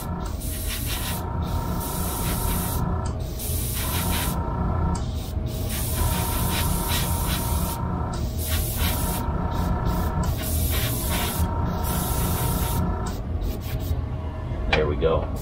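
An airbrush sprays paint onto a Revell U-Wing fighter model in repeated short hissing bursts with brief pauses between, close up, over a steady low hum.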